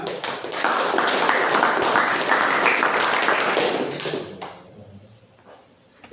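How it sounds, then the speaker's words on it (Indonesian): Classroom audience applauding student groups: a dense, steady burst of clapping hands for about four seconds that fades out into quiet room noise. "Kita berikan aplaus sama-sama."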